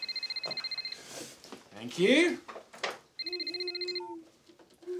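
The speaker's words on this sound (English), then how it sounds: "Can you see where my phone is? I can hear it ring." A mobile phone rings indoors with a repeating electronic ringtone pattern, pausing while a voice speaks briefly and then starting again, loud and close.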